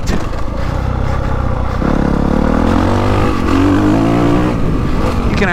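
A 450 motocross bike, a CRF450 Works Edition or KTM 450 Factory Edition, runs under throttle while riding: a loud, close engine drone that rises in pitch as the rider rolls on the power, with some clatter.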